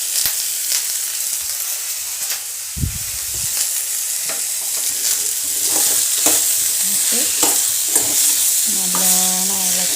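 Vegetables frying loudly in a pan with a constant dense sizzle, while a spoon stirs them in repeated scraping strokes and occasional clanks against the pan, close up and without speech.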